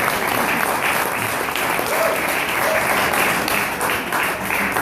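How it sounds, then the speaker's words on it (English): An audience applauds steadily at a live speech event, a dense sustained wash of many hands clapping throughout, fairly close and loud with no talking over it. "I appreciate the clapping"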